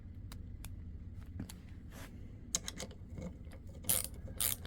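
A ratcheting ball-grip stubby Phillips screwdriver clicks in quick, uneven runs of light ratchet ticks, close and fairly quiet, with a few sharper clacks and handling rustle, no speech.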